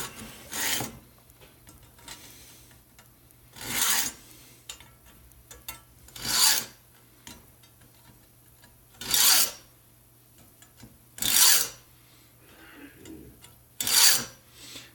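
Hand file rasping a pen blank in six separate broadband strokes spaced roughly every two and a half seconds, each a short close scrape, with a low steady hum underneath and no talking.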